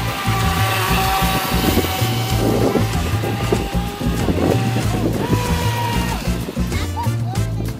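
Volantex Blade RC boat motor running on a lake, a steady high electric whine with shifting throttle that holds loud and close throughout, no pauses.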